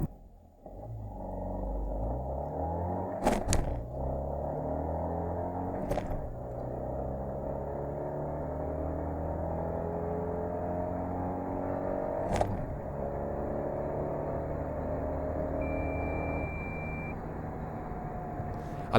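A Fiat Panda 4x4 0.9 TwinAir 85 Cross accelerates hard. Its two-cylinder engine drones and climbs in pitch through repeated gear changes, heard from inside the car, with a couple of sharp clicks and a short beep.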